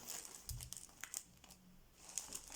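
Stamperia rice paper being handled close up, with soft crinkles and rustles in short bursts separated by quiet gaps, faint and intimate with no speech.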